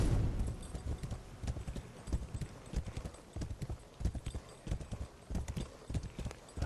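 A horse's hooves clip-clop in a steady, even rhythm nearby, a run of sharp knocks over a quiet background while riding through a fortress in the game Wayfinder Echoes.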